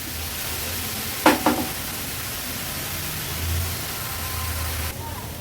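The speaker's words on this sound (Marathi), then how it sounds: "आता 2 मिनिटासाठी ही मेथीची भाजी आपण व्यवस्थित शिजवून घेणार आहोत।" Fenugreek leaves (methi bhaji) cook uncovered in a pan for an Agri-Koli style vegetarian thali, giving a steady soft sizzle and hiss, with a couple of brief scraping or clinking stirs near the start.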